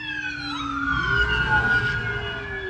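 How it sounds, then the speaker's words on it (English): Emergency vehicle sirens wail outside a house, several overlapping rising and falling tones sweeping steadily at moderate loudness over a low traffic rumble, with no speech. "That's why you heard the sirens."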